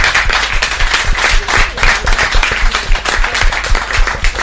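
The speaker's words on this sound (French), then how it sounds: "On vous applaudit en tous les cas très fort puisque un bon programme s'annonce." A studio audience on a French TV variety show breaks into loud, dense applause that holds steady for the whole stretch, with no voices on top.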